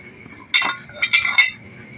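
Drinking glasses, a Leon liquor promotional glass among them, clink together in two quick bright bursts, close and crisp against a quiet background.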